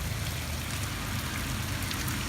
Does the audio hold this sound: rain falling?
yes